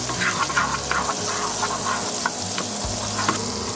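Butter sizzles and fries in a pan, a dense, steady crackle with soft stirring scrapes, close and constant throughout.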